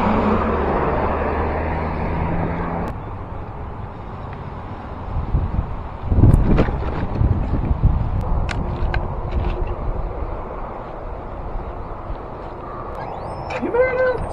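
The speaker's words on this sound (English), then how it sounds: "Nothing like traffic, eh?" Cars rush past a touring cyclist on a road, each passing vehicle swelling into a loud whoosh then fading, over constant wind buffeting the microphone, with a few sharp clicks and rattles.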